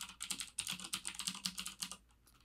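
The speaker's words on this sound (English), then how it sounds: "I'll type in node download project assets, the name of our file" Rapid, close computer keyboard typing as a command is entered, a steady stream of crisp key clicks for about two seconds before it stops.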